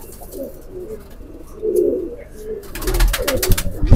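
Rampuri and teddy pigeons cooing in a tree, low soft coos repeating steadily, with a burst of louder rustling and clatter toward the end.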